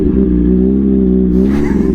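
A motorcycle idles and revs on a crowded road during a ride toward Mount Tamalpais, giving a loud, close, steady engine drone that lifts slightly toward the end.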